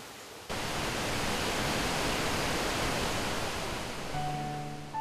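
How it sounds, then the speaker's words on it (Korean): A mountain waterfall beside a pavilion at Dogapsa Temple in Yeongam, Korea, gives a constant broadband rush of falling water. It fades in after a brief quieter moment and stays steady and enveloping, with faint tonal notes near the end. "산속의 정취를 더해주는 물소리를 따라 조용히 마음의 소리에 귀를 기울입니다"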